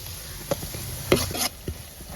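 Chopped onions and small shallots fry in hot oil as a utensil stirs them, giving a few quick scraping strokes and light clacks over a soft, continuous sizzle.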